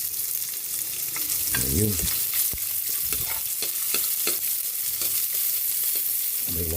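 Garlic and onion sauté in a hot pan with a loud, continuous sizzle broken by repeated scraping stirs of a utensil. A brief word is spoken.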